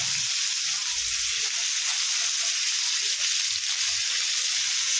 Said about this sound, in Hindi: टोमेटो को भी हमको 2 से 5 मिनट पकाना है।